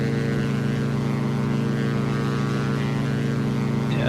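Steady, loud engine drone of an Aero Bask DA62 twin-engine aircraft in the X-Plane 11 simulator, a continuous hum with no voices over it.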